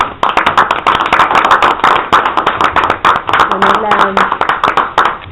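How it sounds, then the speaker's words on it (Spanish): Applause from a small audience at a university talk on human rights, a few people clapping close by in quick irregular bursts, with a brief voice or tone breaking through midway. "te damos un aplauso"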